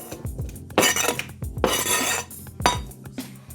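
Chicken sausage dumped into a hot pan with olive oil, heard as close, clattering clanks of metal and utensils followed by bursts of hissing sizzle, with no voices.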